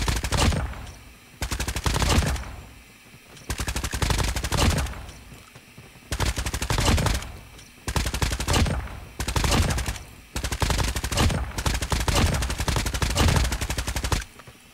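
Bursts of automatic fire from the CR-56 AMAX rifle in the mobile shooter Call of Duty Mobile, loud rapid volleys lasting one to two seconds each, separated by short pauses, with no talking.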